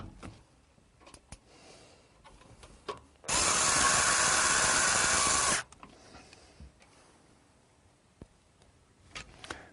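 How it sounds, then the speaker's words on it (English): A power drill driving screws to fix a PC power supply into its case: one loud, close burst of motor whir lasting about two seconds, framed by faint clicks and handling noises before and after. "And get it to line up with the screw holes, and then I will put in the screws."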